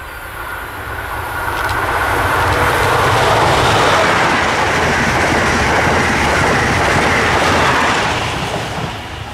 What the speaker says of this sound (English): Next up was Amtrak Acela Express train 2117, roaring its way south to D.C.